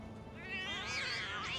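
Cats meowing in Final Fantasy VII Remake, a couple of rising, drawn-out mewing calls that swell louder toward the end, heard alone without talk.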